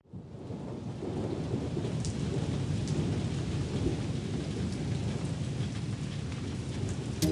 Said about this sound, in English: It's raining, it's raining, and it's never ending.